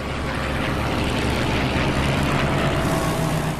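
A loud, continuous engine roar with broadband rushing noise from an F6F Hellcat fighter's 2000-horsepower engine passing close, steady throughout with no talking.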